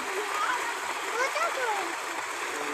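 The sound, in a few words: water splashing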